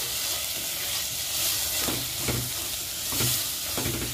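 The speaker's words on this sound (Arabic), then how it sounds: "هلا راح اضيف جميع البهارات على الخضروات واحركها" Spiced vegetables stirred in a frying pan, with a steady sizzle and repeated scraping strokes of the spoon across the pan. No one speaks.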